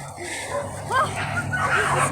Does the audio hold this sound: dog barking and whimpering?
yes